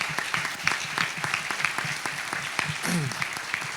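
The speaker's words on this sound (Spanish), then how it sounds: "Un aplauso para todos los ponentes." Steady applause from a conference audience after a panel discussion, dense clapping filling the whole stretch, with a brief murmur of voices near the end.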